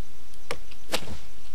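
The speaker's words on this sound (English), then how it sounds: "The sound of the chopping of the wood." Wood-chopping effects from the game Gnomoria land as two sharp, close, percussive chops about half a second apart, with faint lighter knocks in between and no voices.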